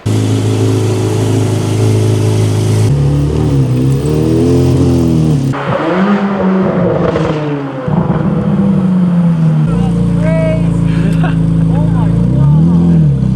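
A Corvette C8 Z06 with a titanium Valvetronic exhaust revs repeatedly up and down, loud and close, its exhaust roaring and crackling between pulls, with a voice talking over it.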